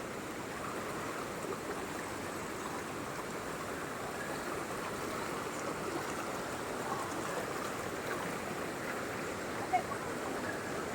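Strong spring water rushes and gushes steadily at a spring in Carmen, Surigao del Sur, a dense continuous flowing roar with no pauses.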